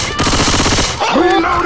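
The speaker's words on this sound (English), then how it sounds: "got to stop shooting me!" Rapid automatic gunfire in Left 4 Dead 2, a loud close burst of evenly spaced shots that cuts off after about a second, followed by a voice speaking briefly.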